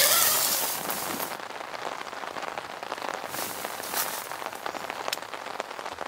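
Steady rain patters on a tent or tarp shelter at a wet-weather campsite at night, a dense hiss with scattered louder drops, fairly close and continuous without talk.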